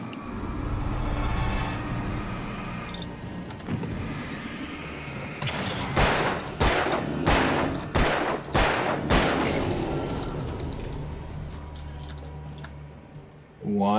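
Alan Wake gameplay brings a cluster of loud gunshots in irregular succession after a stretch of low ambient rumble, followed by a fading tail of quieter background noise.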